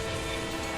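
A train rumbles through a tunnel in the Roblox video game, a dense, steady roar filling the short moment at close range with no voices over it.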